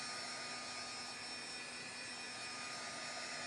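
Heat gun blowing hot air to dry paint in an art journal, a constant whooshing fan roar with a faint whine, steady and close, no speech.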